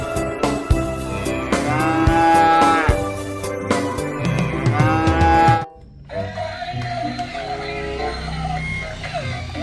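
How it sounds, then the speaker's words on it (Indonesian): Cattle moo in long drawn calls, one near the start and another around the middle, amid background music and other noise before a sudden drop in level. "ada sapi teman-teman."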